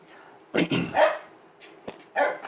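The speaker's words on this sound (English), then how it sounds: "I think my dog is here, and he is thinking he's wanting some also." A dog in a home kitchen gives several loud, close barks in short bursts with brief gaps, mixed with a person talking.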